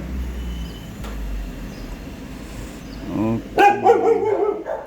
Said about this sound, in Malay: Anjing dia pula.